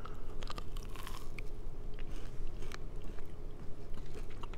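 Someone bites into a white chocolate dipped Rice Krispie treat topped with rainbow nonpareils, giving a few close, crisp crunches followed by quieter chewing, with no talking.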